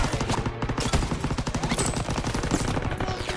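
Rapid bursts of gunfire from the Call of Duty WWII campaign, dense automatic shots rattling continuously and loudly over the game's battle soundscape.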